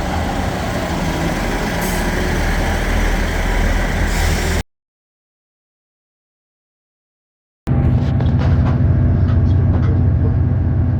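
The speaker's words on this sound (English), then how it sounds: "Here's the train arriving." A train rumbles loudly and steadily, cuts off abruptly, then returns with heavy low rumble and hissing brakes as it pulls in.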